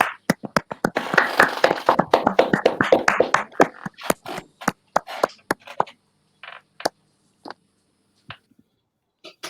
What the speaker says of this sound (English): We should all clap at least.